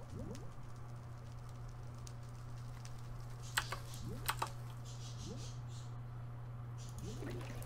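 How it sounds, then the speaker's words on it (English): Bursts of computer keyboard typing, quick key clicks in short clusters over a low steady hum, fairly quiet. "Let's type in luck again."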